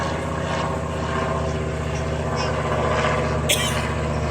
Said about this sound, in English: Get a good run-up of this engine.